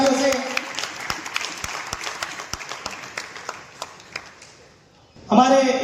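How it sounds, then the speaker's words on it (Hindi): Audience at a political committee announcement clapping to welcome a member, a loose stream of scattered claps fading out before a voice resumes. "उनको मैं आमंत्रित करूंगा जोरदार तालियों से।"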